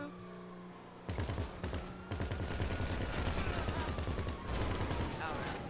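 Gunfire from Grand Theft Auto 5 rattles off in rapid bursts, dense and loud, mixed with engine drone and game noise, while someone talks faintly underneath.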